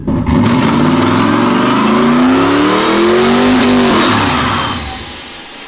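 Turbocharged Ford Crown Victoria burnout car revving hard close by, its engine pitch climbing steadily through a sustained roar with tire squeal, then easing off at the end; no talking.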